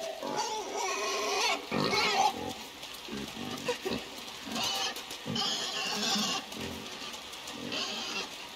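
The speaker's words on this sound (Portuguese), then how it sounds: "Ó o porco zumbi." Grunts and squeals from a zombie pig in the video game INSIDE, a cluster of rough animal vocalisations that come and go in bursts over a low ambient game soundscape, fairly close and moderately loud.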